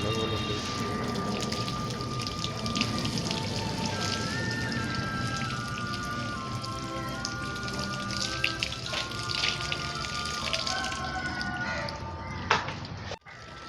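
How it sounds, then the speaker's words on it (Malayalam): Water splashes and trickles steadily into a muddy pot that held lotus tubers, a continuous wet pouring sound with occasional drips and small knocks, close by, without talk. "കുറച്ചുകൂടെ വെള്ളം ഒഴിച്ച് വെക്കാം, അന്നേരം ആ ചെളി അതിൽ നിന്ന് പോയി കിട്ടുമല്ലോ"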